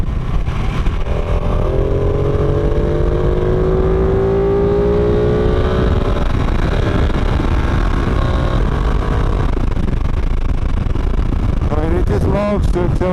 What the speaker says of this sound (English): Loves to accelerate. I can't help but love this bike at speed.